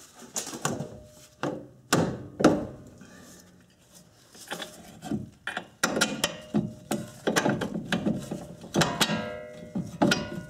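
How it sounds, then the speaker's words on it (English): A Subaru EJ25 CV axle forced by hand into the differential housing, giving a string of sharp metallic clunks and scraping knocks of varying loudness, close up with no talk. "I'll place my hands on the rod and just force it in right into the diff"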